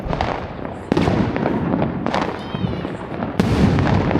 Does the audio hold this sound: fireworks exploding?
yes